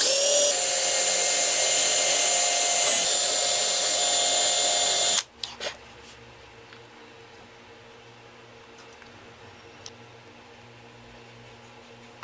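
A power drill bores a bolt hole in the top plate of a handmade precision marking gauge, whining loudly and steadily for about five seconds before stopping abruptly, followed by quiet handling noises.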